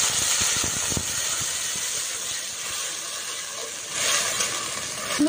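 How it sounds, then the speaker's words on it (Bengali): Water added to lightly fried onions in a hot pan gives a steady, loud broadband hiss of steam, swelling briefly toward the end, with no talking. "এখানে আমি জল দিয়ে দিয়েছি"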